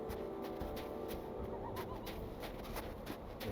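In the Lord of the Rings Online game world, birds coo softly amid a busy ambient soundscape, the low, gentle calls repeating a few times against steady background noise, with no voices.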